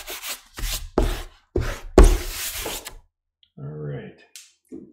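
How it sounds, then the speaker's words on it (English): A small pickup eraser rubs masking fluid off a watercolor painting in several short, scratchy rubbing bursts, close and fairly loud, followed by a brief stretch of a voice talking. "take off the masking fluid with this little pickup eraser"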